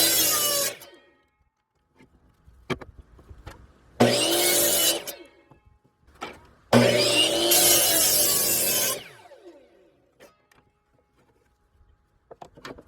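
A power saw trims the edge of a wood board run against the fence: three loud bursts of cutting with quieter gaps between them, where the blade whines down and small taps and handling noises are heard.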